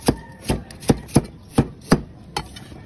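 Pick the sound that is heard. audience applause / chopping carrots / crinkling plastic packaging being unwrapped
chopping carrots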